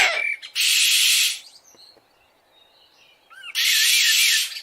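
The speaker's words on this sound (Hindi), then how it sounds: "ये तो किसी और पंछी की आवाज लग रही है।" Animated story bird calls: a loud, bright chirping squawk, a quiet pause with faint rustle, then a second equally loud shrill burst of calling.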